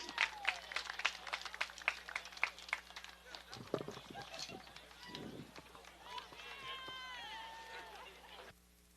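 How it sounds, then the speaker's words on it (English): Applause and cheering for Panther seniors at Arrold Field, Plymouth State University, a college sports event: sharp close claps in the first few seconds, then a quieter crowd with voices and whistle-like tones. "let's have one more round of applause for all our Panther seniors"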